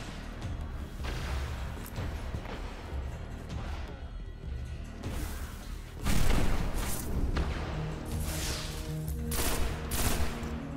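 A pulse rifle fires in Destiny in quick repeated bursts, loud and near, layered with crashing battle noise throughout and growing heavier in the second half.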